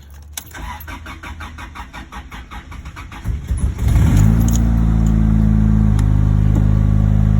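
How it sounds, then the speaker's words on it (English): Close up, a car engine is started with a key: a rapid rhythmic starter cranking builds for a few seconds, then the engine catches with a loud roar and settles into a steady, deep idle. No one speaks. "So let's put the key in, clutch in."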